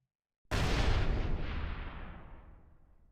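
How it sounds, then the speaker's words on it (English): A single loud game explosion from panels blown up in People Playground erupts after a half-second of silence, then rumbles and decays slowly over about three seconds with no other sound. "So I'm just gonna make these go kaboom."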